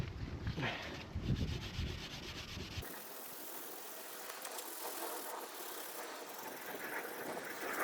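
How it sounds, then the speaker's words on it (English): A Porsche 911 hub face is scrubbed by hand with a scotch pad, starting as a rough close rubbing and settling into a steady, faint abrasive hiss that continues alone. "just a bit of scotch pad and just do it by hand"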